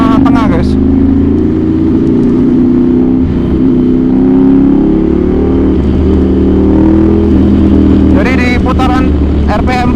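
A Ducati Monster 796 with a ProArm and its L-twin engine drones in a loud, steady low rumble that holds throughout, while a rider talks over it.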